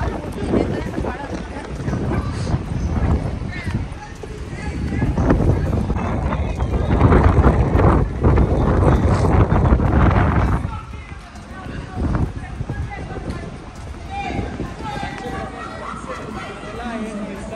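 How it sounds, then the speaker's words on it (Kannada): Strong gusting wind along the Atlantic City boardwalk buffets the microphone in loud, continuous rushes, with people talking and faint footsteps beneath the roar. "ನೀವು ಸೌಂಡ್ನ ಕೇಳಿಸ್ಕೊಬೋದು ಎಷ್ಟು ಗಾಳಿ ಬೀಸ್ತಿದೆ ಅಂತ"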